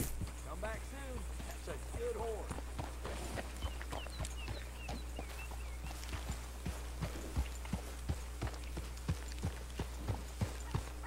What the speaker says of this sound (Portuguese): Faísca é um puro sangue inglês que eu domei também lá no deserto.